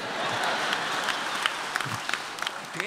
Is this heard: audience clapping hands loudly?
yes